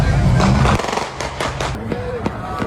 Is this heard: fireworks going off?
yes